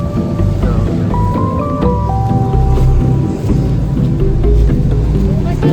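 Steady rain hiss fills the background while people talk over it, with a constant broadband wash throughout.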